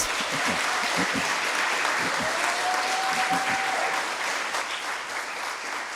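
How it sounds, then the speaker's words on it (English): Steady applause fills a graduation ceremony hall, a continuous wash of clapping from the audience that stays level for several seconds before easing slightly, with a brief tone and faint voices underneath. "another round of applause for talent."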